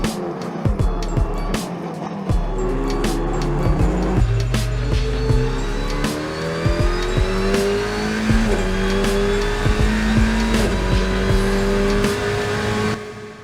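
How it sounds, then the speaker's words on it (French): An Alpine A110 Cup race car with a mid-rear engine and rear-wheel drive laps a circuit, its engine rising and falling through repeated upshifts and revs, loud and close, with sharp shift cracks along the way. "c'est comme ça que je te présente l'Alpine A110 Cup"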